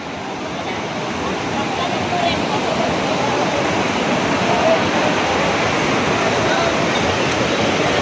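A waterfall along the mountain trek path from Sonprayag to Kedarnath roars in a steady, broad, unbroken rush that stays even and close throughout.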